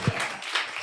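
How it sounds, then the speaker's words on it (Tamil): A church congregation claps together at a Sunday service, a short burst of applause lasting under a second, close and fairly loud. "கைத்தட்டு கொடுப்போம்."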